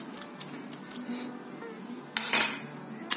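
Methi microgreens omelette batter being stirred in a bowl, the utensil clinking and scraping against the sides in light, irregular taps, with a louder rattle near the end.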